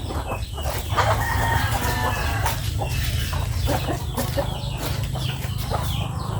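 A flock of chickens and roosters clucks and squawks while pecking at feed scattered on the ground, with overlapping close calls and a rooster crowing amid a constant low background rumble.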